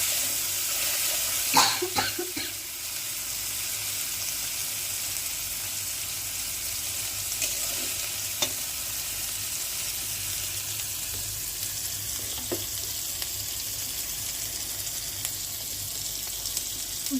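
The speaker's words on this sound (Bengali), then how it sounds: "মশলাটা ভাজা হয়ে গেলে আমি গরম জল দিয়ে দেব।" Hot water poured into frying mustard spice paste for shorshe ilish, a steady hissing sizzle over the whole stretch with a few sharp clinks and splashes near the start and scattered small taps later.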